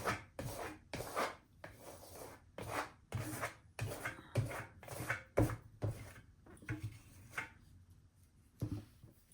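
Paint is scraped from the bottom of a nearly empty container, a series of close, rhythmic rasping strokes that slow and thin out toward the end.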